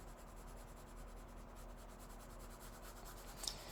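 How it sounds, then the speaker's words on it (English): Soft, steady scratchy rubbing of colored pencil strokes on a smooth vellum sheet, quiet and close, with no voices. "I really like the feel of colored pencils on it."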